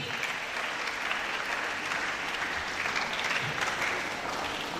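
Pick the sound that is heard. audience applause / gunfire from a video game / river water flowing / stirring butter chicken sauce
audience applause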